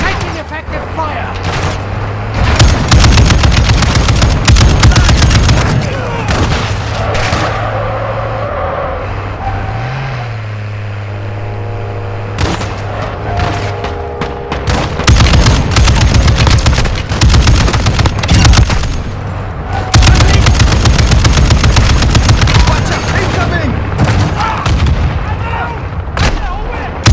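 Heavy automatic gunfire and explosive blasts from a Call of Duty DMZ match, loud and close, coming in long dense bursts with brief lulls where engine rumble and a few voices come through.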